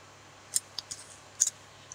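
Scissors trimming permanent double-sided tape in a papercraft setting, giving a few quick, crisp snips close by in a quiet room.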